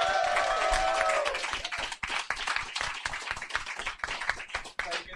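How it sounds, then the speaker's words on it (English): Loud, dense applause from a large podcast studio audience, steady clapping that carries on throughout with a cheer or whoop near the start. "So please give all the applause you can with all the hands you've got on you"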